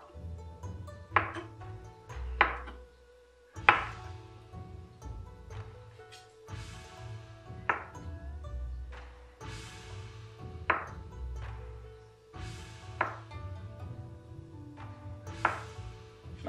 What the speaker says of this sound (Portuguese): Nós vamos cortar em cubinhos.